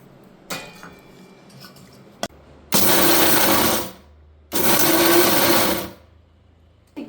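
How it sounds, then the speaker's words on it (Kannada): A kitchen mixer grinder pulses rock sugar and cardamom in a mixie jar, giving two loud whirring bursts of a second or so each, preceded by a few small clicks and clatters of the jar and lid. "ಇದನ್ನು ಮಿಕ್ಸಿ ಜಾರ್ಗೆ ಹಾಕ್ಕೊಂಬಿಟ್ಟು ಗ್ರೈಂಡ್ ಮಾಡ್ಕೊಳ್ಳೋಣ"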